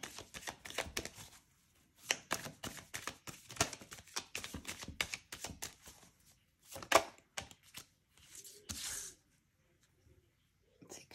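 Tarot cards being shuffled by hand in bursts of crisp riffling and soft slapping, close and fairly quiet, with short pauses between handfuls.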